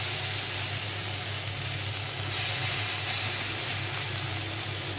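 Onions and tomatoes frying in a pan for a duck egg curry: a steady, even sizzle with soft hissing, moderately loud and with no voices.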